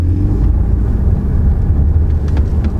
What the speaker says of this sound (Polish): Głos silnika, ja nie mam żadnych zastrzeżeń.